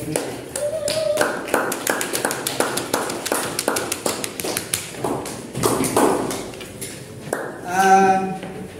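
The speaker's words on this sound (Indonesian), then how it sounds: "Oke, tepuk tangan." A classroom of students claps in a quick, uneven patter that builds and then trails off into scattered taps, followed by a short voice at the end.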